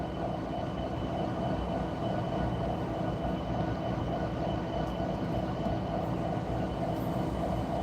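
A southbound Norfolk Southern freight train rumbles past a road crossing, a steady, loud drone of rolling cars and clattering wheels that holds evenly throughout with no one talking.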